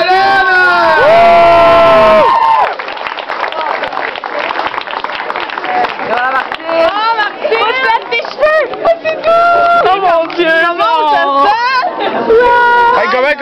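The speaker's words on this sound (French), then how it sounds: "Et une bonne main d'applaudissement pour Chalet!" Crowd cheering and shouting at a shaved-head challenge event, loud excited voices with whoops and children's shrieks running throughout, some applause mixed in.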